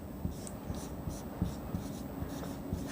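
A pen writes a number out in words on paper for a third-grade maths lesson, giving soft steady scratching strokes in a quiet room with no talking.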